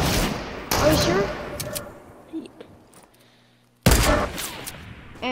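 Sharp, loud semi-auto sniper shots in the Fortnite video game, a couple of separated cracks with decaying echo tails and quieter game noise between them.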